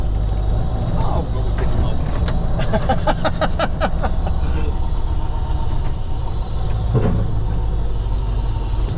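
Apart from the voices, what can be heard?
right-hand drive V8 Volvo truck driving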